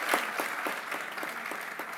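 An audience at an international services trade forum applauds in a hall. The clapping is dense and continuous, with no voices over it.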